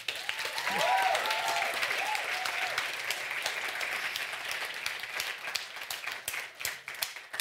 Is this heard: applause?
yes